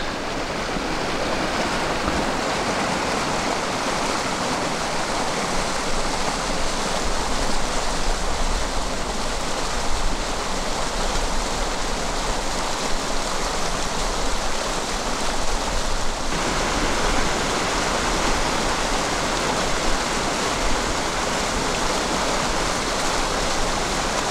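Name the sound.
water flowing past a flow-gauging station in the Andes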